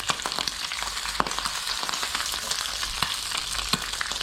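Strips of bacon frying in a pan over slightly lowered heat, a dense steady sizzle with scattered sharp pops and crackles, close and continuous with no talk.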